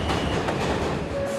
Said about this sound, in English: Midnight on the New York subway.